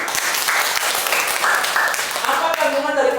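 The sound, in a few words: applause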